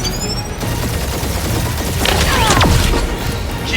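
A barrage of weapon fire strikes an enemy ship during a space battle in the Guardians of the Galaxy video game, heard as dense, sustained booming with crashing impacts that build louder toward the middle.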